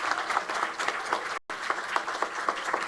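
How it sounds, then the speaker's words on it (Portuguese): Steady applause from a conference audience at a Brazilian ports congress awards session, dense clapping filling the room briefly cut off by a short gap before resuming. "quero pedir uma salva de palmas para essa equipe aqui"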